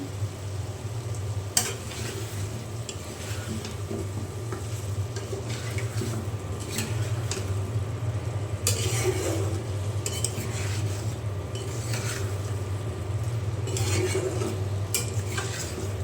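Prawns and chopped taro with garlic are sautéed and stirred in spices, giving a steady low sizzle with scattered utensil scrapes and clinks against the pan throughout, no voices.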